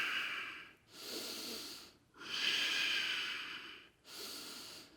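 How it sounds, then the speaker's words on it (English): Slow, deep breaths through the nose during a yoga flow, three long airy inhales and exhales separated by brief pauses, close and soft with no talking. "Breathing in."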